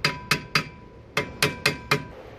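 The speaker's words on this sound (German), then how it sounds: "dann nehmen wir einfach so einen Hammer und hauen hier ein bisschen drauf." A hammer striking a stuck rear brake disc on a BMW E36 coupe, eight sharp metallic blows in two quick bursts with a slight ringing tone, close and loud with a brief pause between the groups.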